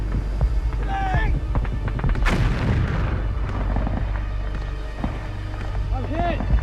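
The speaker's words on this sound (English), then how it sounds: "Douglas's weapon jammed as the Japanese soldier pulled the pin on a hand grenade." A World War II hand grenade blast on Iwo Jima lands as a single loud boom amid ongoing battlefield gunfire and distant artillery, with shouting voices heard under the roar of combat.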